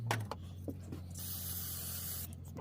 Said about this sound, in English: Spray some of that dust off there.